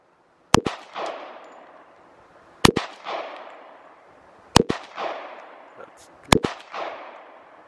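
Four loud, sharp gunshots from a .45 pistol at an outdoor shooting session, spaced about two seconds apart, each followed by a ringing echo tail with faint talk between them.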